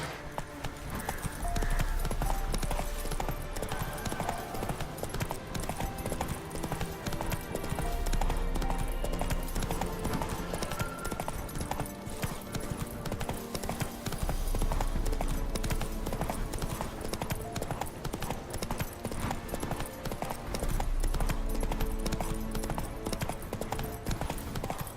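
Roach, a horse in The Witcher 3: Wild Hunt, gallops in a steady, rapid clip-clop of hooves that stays loud and continuous over a busy game soundscape, with no pauses.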